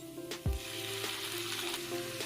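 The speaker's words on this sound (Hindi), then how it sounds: "प्याज का कलर लाइट पिंक हो चुका है तो अब हम इसमें टमाटर ऐड कर लेंगे।" Chopped tomatoes dropped into a pan of light pink fried onions, a soft thud followed by steady close sizzling with faint stirring clinks.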